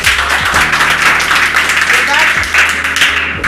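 Applause from an audience at a Netsurf company business presentation in India: a dense, sustained clapping wash that runs for the whole stretch, mixed with steady background music.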